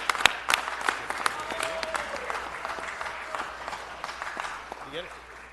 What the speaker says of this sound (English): let's give them all a big round, and the whole department a big round of applause